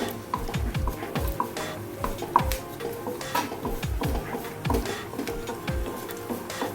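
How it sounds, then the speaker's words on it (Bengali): Almonds and cashews lightly frying in a pan, small crackles and a light sizzle under a steady run of scraping spoon strokes against the metal, close and continuous. "ড্রাই ফ্রুটসগুলোকে হালকা করে ভেজে নেব।"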